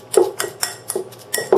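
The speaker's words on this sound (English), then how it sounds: "So just mash it up, just like you'd mash any kind of potato." Cooked sweet potato mashed in a bowl with a utensil, giving a series of close, repeated clinks and soft thuds against the dish at an uneven rhythm, with no talking.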